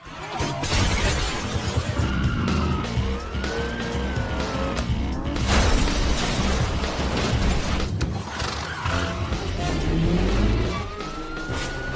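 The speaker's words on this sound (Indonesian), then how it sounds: "Frank tancap gas kabur dan menggunakan keahliannya untuk menghindari setiap kejaran dari para polisi" A car speeds away in a movie police chase, with wailing police sirens rising and falling, crashing and shattering impacts, and busy engine and traffic noise, loud and continuous throughout.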